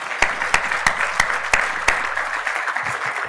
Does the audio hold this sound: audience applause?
yes